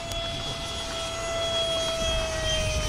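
An RC Dynam Meteor 70mm electric ducted fan jet passes on a low flyby, a steady whooshing whine with a high tonal note that swells slightly, heard from outdoors with wind.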